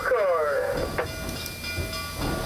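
Engine 618, a steam locomotive, creeping ahead slowly in low gear with a low continuous rumble and rail noise, a brief whistle-like tonal sweep at the start and a sharp clank about a second in.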